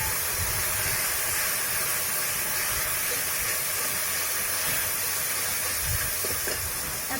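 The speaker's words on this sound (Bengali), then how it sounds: "এরপরে এর উপরে পোস্ত বাটা দিচ্ছি।" Vegetables fry in a pan as poppy seed paste goes on top. A steady, even sizzle and hiss continues close by, with no one talking.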